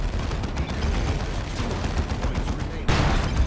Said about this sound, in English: Was that friendly fire from the D-Cannon?